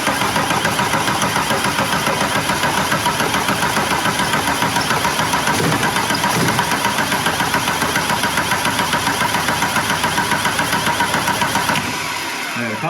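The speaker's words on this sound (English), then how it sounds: "Now, in theory, I should turn the key. This should send diesel up through that. And she should start." A Mk2 Golf TDI diesel engine runs with a loud, steady, rattling clatter close by for about twelve seconds, then cuts out abruptly.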